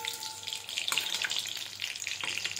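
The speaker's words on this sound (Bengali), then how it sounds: "2 পিঠ লাল করে ভেজে নেব।" Chicken pakoras fry in hot oil with a steady, close sizzle and crackle, a busy hiss running through the whole stretch with small bursts of popping and no one talking.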